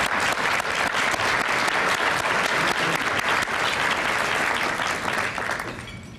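Loud, dense applause from a luncheon audience at the Spirit of Safer event, a steady wash of many hands clapping close by that thins and fades away in the final second.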